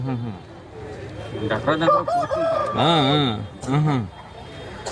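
Fowl call loudly at a weekly market in a short burst of harsh, rising-and-falling cries close to the microphone, with people talking nearby.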